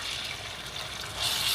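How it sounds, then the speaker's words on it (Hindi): Water pours steadily into a pot of cooked lentils for a green chilli dal, a continuous close splashing fill that grows a little louder toward the end. "साथ में हम इसके डालेंगे इतना थोड़ा सा पानी"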